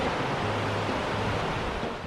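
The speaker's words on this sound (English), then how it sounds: "This waterfall is massive." A large waterfall in Iceland roars as a steady, loud broadband rush of falling water, constant and close, with no voices.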